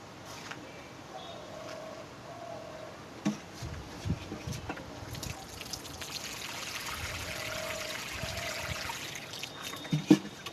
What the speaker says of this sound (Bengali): গাছে জলটা দেওয়া হচ্ছে